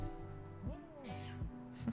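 A pet cat meows a few times close by, short rising and falling calls spaced out over a faint steady background hum.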